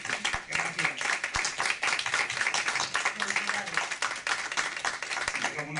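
An audience at a book presentation applauds in a sustained, dense round of clapping that stays loud and even throughout, with voices talking beneath and through the claps.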